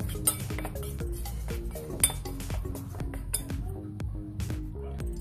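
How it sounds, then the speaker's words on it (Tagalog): Marinated chicken being mixed in a bowl, a rapid, continuous run of metallic clinks and clatter from utensils against the dish, close and lively, with no voices over it. "Isasawsaw natin dito yung minarinade nating chicken kanina. Yan na guys. Mix lang natin."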